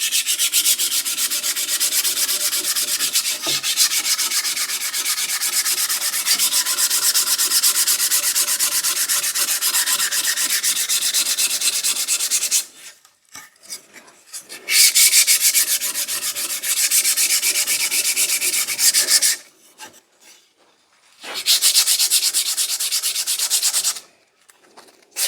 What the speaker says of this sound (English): just do a little bit of sanding